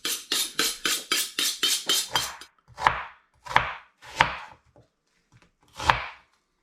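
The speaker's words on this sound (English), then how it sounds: "I'm going to begin by chopping up my onions, chilli and green pepper" A knife chops onions, chilli and green pepper rapidly on a board in a quick run of about nine strokes, then slows to a few separate heavier cuts, close and clear.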